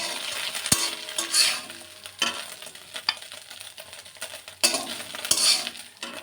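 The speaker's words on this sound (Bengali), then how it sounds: "আমরা মাছটা ভেজে নেব" Fish frying in oil, a steady crackling sizzle close by, broken by occasional clinks and scrapes of a utensil stirring in the pan.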